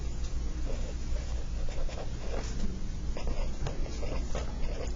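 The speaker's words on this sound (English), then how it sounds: "And we're going to write" Marker or chalk strokes on a classroom board during a geometry lesson on transversals, a steady scratchy scraping in short repeated strokes, close and moderately loud with faint room noise.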